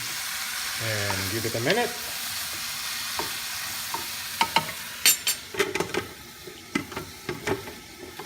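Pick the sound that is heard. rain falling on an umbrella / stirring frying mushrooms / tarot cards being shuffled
stirring frying mushrooms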